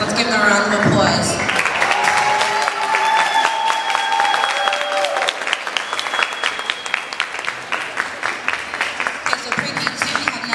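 A crowd of families applauds at a pre-kindergarten step-up ceremony, with steady, loud clapping that runs the whole stretch alongside cheers and some voices.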